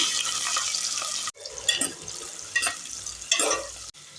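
Sliced onions hit hot oil already seasoned with mustard seeds and cumin, giving a loud, steady broadband sizzle with brief gaps and bursts as they are stirred in the pan.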